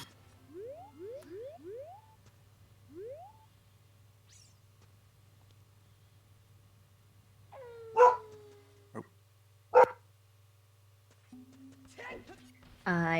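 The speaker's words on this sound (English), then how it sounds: "I hear a pupper." A dog barks and yips in the Ocarina of Time randomizer game, several rising whimper-like tones followed by a few sharp, loud barks amid game sounds, with a voice speaking in the clip.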